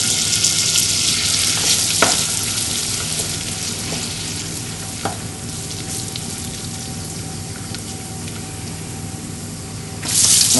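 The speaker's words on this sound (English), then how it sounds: "Now the oil is taking on the pine nut flavour as well." Pine nuts frying in oil and butter in a hot pan, a loud, continuous close sizzle with scattered crackles and a short burst of stronger spitting near the end.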